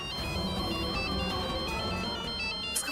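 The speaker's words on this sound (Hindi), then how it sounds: "उसका फोन आया।" A mobile phone ringtone sounds for an incoming call in a Hindi TV drama, a steady repeating electronic melody running continuously at moderate volume with no talking.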